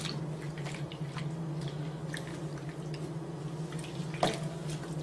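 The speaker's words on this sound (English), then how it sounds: "I'm gonna gently massage the suds into the cover and the water into the cover" Hands knead soapy water into a wool cover in a basin, giving soft wet squishes and drips over a low steady hum, with one sharper slosh near the end.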